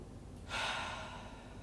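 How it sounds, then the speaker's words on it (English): Single breath drawn in through the nose during seated chair yoga, a soft, airy rush lasting about a second, faint and close with no voices. "Inhale through the nose."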